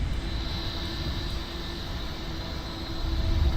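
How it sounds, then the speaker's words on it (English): An aircraft auxiliary power unit on a Ryanair Boeing 737 hums and whines steadily at moderate distance, a continuous engine drone with a high tonal whine that swells slightly toward the end. "And we go ahead and spool up our APU. All right, APU should be spooling up."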